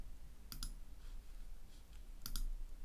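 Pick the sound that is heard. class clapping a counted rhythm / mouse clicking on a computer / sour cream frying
mouse clicking on a computer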